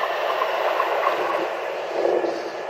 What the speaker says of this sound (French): Alors là il y a les trains qui passent juste à côté.